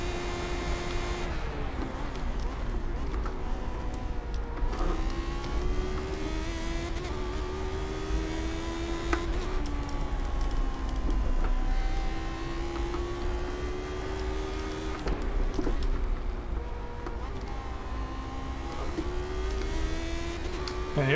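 A Lotus 79 race car screams at full throttle around Road America in iRacing, its engine note droning steadily with rising and falling pitch through gear changes, loud and continuous throughout.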